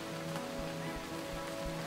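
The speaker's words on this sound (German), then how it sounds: "Es regnet wieder." Steady rain falls in the Starbound video game, a continuous soft hiss of drops with faint low thumps and a thin tonal hum running beneath it.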